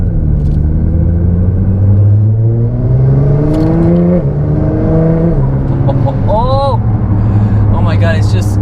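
A 2018 Nissan GT-R accelerating hard in second gear, its engine note climbing steadily through a loud, close cabin drone with rising harmonics and a brief shift-like dip, a voice talking over it.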